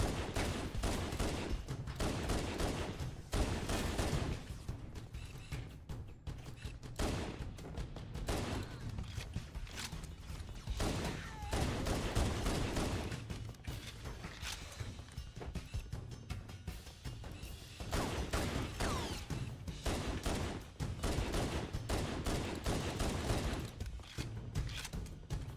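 Pistol gunfire in Halo 1: Anniversary, rendered as dense, rapid bursts of shots with thumps that fire almost continuously through the whole stretch, loud and up close, with only brief pauses between volleys.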